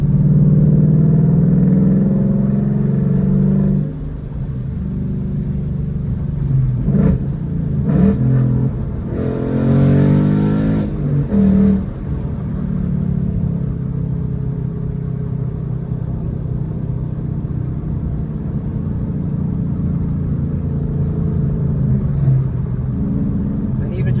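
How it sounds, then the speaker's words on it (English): A Ford Mustang GT engine rumbles steadily at close range, swelling into a few short revs midway, with a person talking over much of it. "I really do like the sound of my buddy's car"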